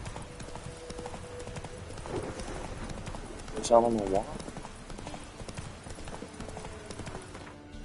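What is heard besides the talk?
horse hooves clip-clopping in video game Witcher 3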